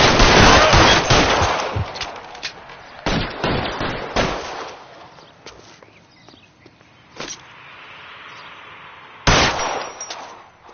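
Gunfire in LA Noire, a shootout in a detective game: loud bursts of rapid automatic fire open the scene, then scattered single shots and clangs echo through quieter stretches before a final heavy burst near the end.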